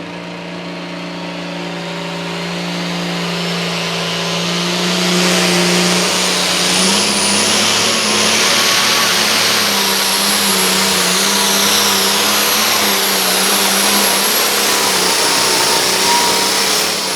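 A pulling tractor, an International called the Z Unit, revs hard at a truck and tractor pull at the Washington County Ag Center. The engine drone is loud and close, building steadily and then holding at a sustained high roar.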